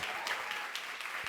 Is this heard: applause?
yes